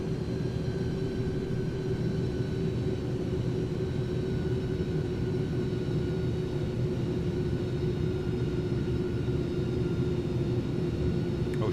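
An iniBuilds A310 airliner on its final approach to landing in Microsoft Flight Simulator, a steady engine drone and rumble with a constant tone that holds unchanged throughout, no talk.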